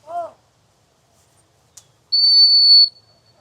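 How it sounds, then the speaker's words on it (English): A dog handler's whistle sounds at a retriever field trial, a single sustained shrill blast lasting under a second, preceded by a short faint tone in an otherwise quiet field. "Okay, probably puts a whistle on there"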